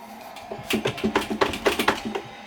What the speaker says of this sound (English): Hear that clacking noise? That is almost, as you can hear it audibly when I exaggerate it, but that exists within the force feedback